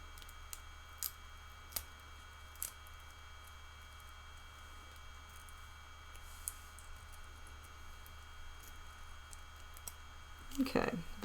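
Small scissors snip faintly and sporadically while skinning a juvenile robin specimen, with isolated sharp clicks over a quiet hum and a louder cluster of cuts near the end.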